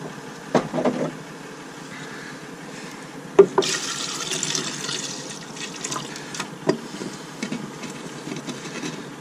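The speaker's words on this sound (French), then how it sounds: "Et donc là c'est le filtre à gasoil. Donc je vais essayer de vider ça dans le seau." Diesel drains from a fuel filter into a bucket, a soft steady trickle and splash of liquid with a few clanks of handling and a brief louder gush midway.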